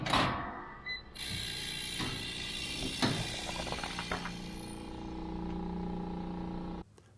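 Thermoforming machine vacuum forming a heated sheet of 030 polycarbonate around a tool, a steady mechanical hiss and whir with ratcheting clicks and knocks, close and continuous, then cutting off abruptly near the end.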